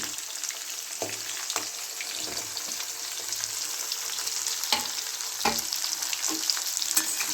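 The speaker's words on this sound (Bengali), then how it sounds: "কচুটা, আলুটা, ডাঁটাটা ভালো করে ভেজে নেব।" Taro, potato and vegetable stems fry in a pan for a Bengali spinach and mixed vegetable dish, giving a constant loud sizzle broken by occasional scraping stirs.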